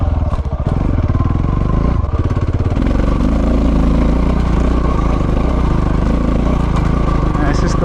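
KTM 690 Enduro single-cylinder thumper motorcycle pulling hard up a hill, a loud steady low engine drone with pulsing throttle bursts early on, heard close throughout.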